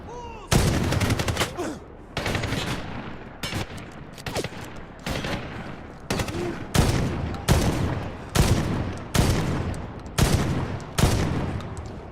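Shotgun blasts from Medal of Honor (2010) boom loud and close, about ten heavy reports spaced roughly a second apart, each with a short ringing tail, and no voice over them.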